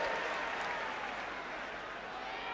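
Football crowd at Highbury stadium for an Arsenal match close to Christmas, a broad distant roar of many voices with applause, steady and continuous.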